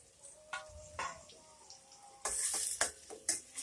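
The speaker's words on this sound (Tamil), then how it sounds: "இந்த கரம் மசாலா எல்லாமே நல்லா வதக்கிக்கோங்க." Onion and garam masala sautéing in a pan, a soft steady sizzle with spoon stirs and scrapes that get louder and busier partway through, no talking over it.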